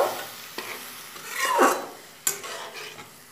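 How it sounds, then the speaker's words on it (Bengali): A spoon stirs bitter gourd and potato posto in a pan right after water is added, giving close scraping, swishing strokes with a few sharp clinks against the pan and a soft sizzle underneath. "জল দিয়ে আবার ভালো মতো নাড়াচাড়া করে দেব"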